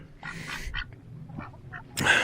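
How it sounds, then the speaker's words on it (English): Domestic ducks, including Pekin, Cayuga and Muscovy, quack in short nasal bursts at a moderate distance, a few scattered calls followed by a louder, closer squawk at the end. "So I have some Pekin ducks, some mostly Cayuga ducks, some Muscovies in here."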